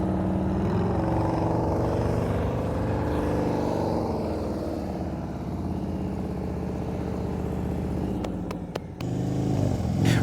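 A Harley-Davidson Road Glide motorcycle rumbles steadily at low speed through a figure-eight practice run, its engine droning with slight rises and falls, and a few sharp clicks near the end.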